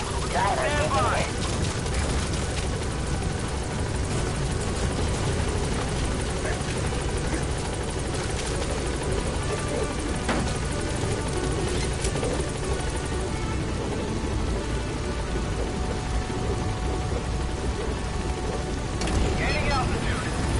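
The Pequod helicopter in Metal Gear Solid V lands and lifts off, its rotor a loud, continuous, close thudding roar that fills the whole stretch, with radio-style voices speaking over it.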